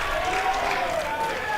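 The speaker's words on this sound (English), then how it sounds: "As De Cesare gets a big round of applause as he comes off the ground." A crowd at an Adelaide amateur Australian rules football match applauds a player leaving the ground, a steady wash of clapping with a commentator's voice running over it.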